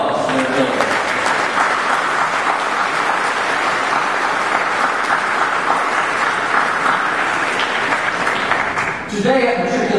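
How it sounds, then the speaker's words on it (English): A large crowd of faculty applauds incoming students at a college convocation ceremony, with sustained, dense clapping that carries on for several seconds, briefly dips, then continues; voices can be heard mixed in. "Faculty, let's give these new students a round of applause."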